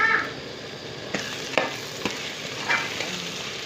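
Potatoes and onions with turmeric powder stirred in a pan: a soft sizzle with scattered scraping clicks of the spoon, up close and without talk.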